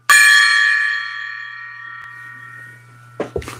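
A gong struck once with a bright metallic clang that rings on and slowly decays, a low hum beneath it, followed by a couple of faint knocks near the end.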